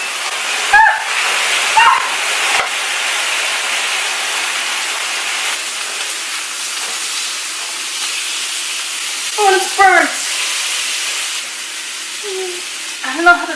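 A pot boils over on a kitchen stove, letting out a loud, steady hiss and sizzle that runs throughout, with a few brief, high-pitched voice exclamations cutting in.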